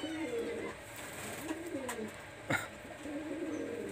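Pakistani high flyer teddy pigeons cooing softly nearby, a few low rolling coos with a short sharp knock partway through, faint overall in a quiet room.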